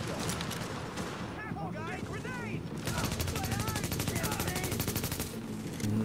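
Rapid automatic gunfire from an inaccurate weapon in the video game The Division, sustained bursts of rattling shots with game music and a voice under it, loudest toward the middle and end.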